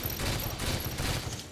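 Dense, continuous gunfire in the Halo 5 video game, with rapid overlapping shots forming a loud, sustained rattle of game combat.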